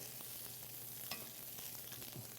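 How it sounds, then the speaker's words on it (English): Carrots sizzle and fry in melted butter in a stock pot for a seafood stew, a steady close crackling hiss with a few stirring scrapes and clinks, no talk. "We love that sizzle when it's going."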